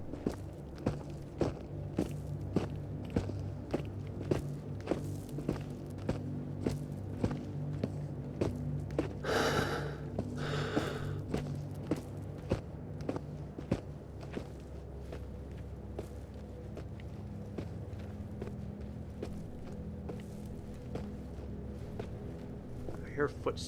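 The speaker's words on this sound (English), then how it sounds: "I hear footsteps" Steady, evenly spaced footsteps in the VR shooter Into the Radius, soft thuds continuing throughout under a low ambient hum, with a brief burst of louder noise near the middle.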